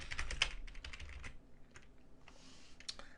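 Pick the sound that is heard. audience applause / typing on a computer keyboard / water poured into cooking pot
typing on a computer keyboard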